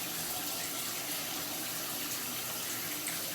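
Tap water runs steadily and fairly close while hair is washed with an oil-based product, a constant broadband rush with no talking.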